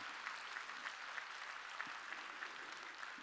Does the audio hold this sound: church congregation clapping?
yes